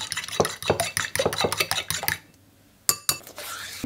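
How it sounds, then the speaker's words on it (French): Eggs beaten in a bowl for a quiche, giving a quick run of rhythmic clinking whisk or fork strokes against the bowl that stop, followed by a couple of sharper isolated clinks. "Battre tout d'abord les œufs."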